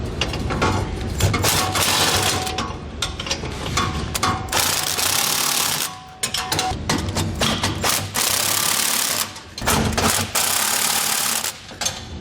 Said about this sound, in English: We're going to tighten all the hardware going to the center section first.